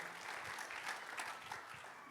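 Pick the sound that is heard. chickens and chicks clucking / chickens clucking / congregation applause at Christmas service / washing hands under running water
congregation applause at Christmas service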